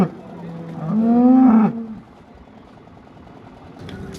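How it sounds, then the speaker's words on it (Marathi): A freshly calved cow gives one loud, drawn-out moo close by at a busy livestock market, followed by quieter background murmur. "ताजी वेलेली गाय आहे बघा"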